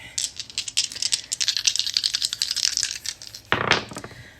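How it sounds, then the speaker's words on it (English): Small dice rattle and clatter across a hard surface in a quick burst of clicks, followed by a brief second tumble. "I forgot to roll the astrological dice"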